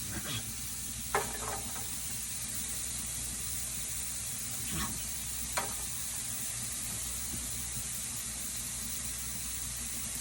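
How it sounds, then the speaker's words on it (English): Chopped onions sizzle steadily in melted butter in a soup pot, a continuous frying hiss with a few faint clicks and stirring scrapes, no talking. "first I'm going to be adding to my butter is my onions"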